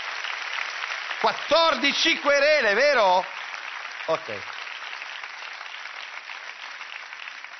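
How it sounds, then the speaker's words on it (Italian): Studio audience applause at an Italian TV comedy show runs as a steady background patter beneath a man's speech, continuing faintly after he stops. "un applauso a Barbacetto"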